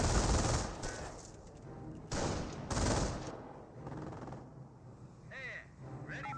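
MG42 machine gun fire in the World War II strategy game Company of Heroes, heard as several rapid bursts separated by pauses, loud and close, with scattered quieter battle noise between them.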